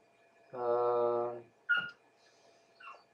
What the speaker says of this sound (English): poor dog. He does not want to be put up.